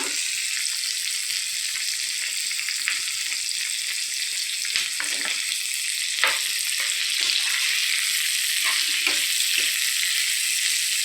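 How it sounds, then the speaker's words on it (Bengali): Chopped garlic and vegetables fry lightly together in a pan for a chhana chilli curry, giving a soft, even sizzle with occasional stirring taps throughout and no voices. "আমি এর মধ্যে রসুন কুচিটাও দিয়ে দিলাম। সব একসাথেই আমার ভাজা হয়ে যাবে"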